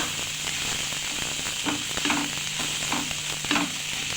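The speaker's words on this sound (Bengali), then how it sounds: "ভালোভাবে পেঁয়াজের সঙ্গে এটা কষিয়ে নেব মশলাটা" Ground coriander, cumin and black pepper frying with onion in a pan, making a dense continuous sizzle with light stirring scrapes and occasional crackles, close and steady throughout.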